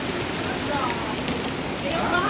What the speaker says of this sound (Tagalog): Mahina na dito yung ulan